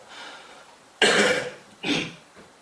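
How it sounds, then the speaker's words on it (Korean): A person with a cold coughs twice during a church sermon, a loud harsh burst followed by a shorter second cough, close to the microphone with quiet room tone between. "제가 감기걸려 자꾸 기침을 하네요."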